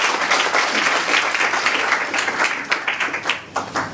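Audience applause for a speaker at a live event, dense clapping that thins toward the end into a few scattered, separate claps.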